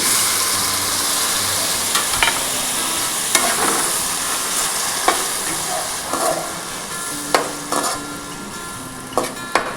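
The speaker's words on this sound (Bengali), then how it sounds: "এখন এটাকে একটু নেড়ে চেড়ে ভাজা ভাজা করে নিচ্ছি।" Sliced onions fry in a pan for an egg curry, giving a steady close sizzle broken by repeated sharp scrapes and clinks of a spoon stirring, with no talk.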